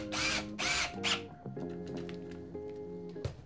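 A power drill whines in short bursts driving screws into wood, motor pitch rising and dropping as it spins, with brief pauses between pulls.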